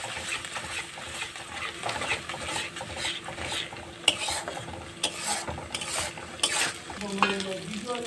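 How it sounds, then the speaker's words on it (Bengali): Ghetkol leaf paste is stirred in a wok, giving a close scraping and pattering sound with soft sizzling underneath, punctuated by several sharp ladle knocks against the pan. "এবার এটাকে কড়াইতে একটু নেড়ে নেব"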